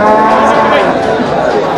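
Cattle moo at the Melapalayam cow market, where native cows and calves are traded. A loud, drawn-out low call rises over dense crowd chatter close by.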